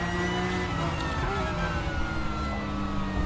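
A Porsche 911 Carrera Cup race car drones in the RaceRoom racing game. The engine holds a steady, close, high-revving tone with gently shifting pitch and no talk.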